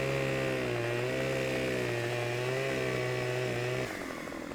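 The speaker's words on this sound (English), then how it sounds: "we'll just kind of drop the trees ourselves with the chainsaws" A Husqvarna chainsaw in the Farming Simulator 17 logging game buzzes at a steady high rev while cutting a tree, briefly dipping in pitch, then drops to a lower idle near the end.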